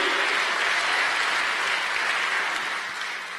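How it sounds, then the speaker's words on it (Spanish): A church congregation applauds with dense, continuous clapping that holds steady before easing slightly at the end, with no talking over it. "Démosle palmas al Señor, hermano"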